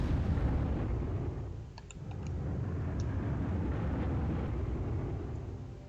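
Bombing explosions in the PC wargame GC 39-45 Manstein rumble low and heavy, with faint pops and cracks scattered across the din. The sound is continuous and moderately loud, with no talking.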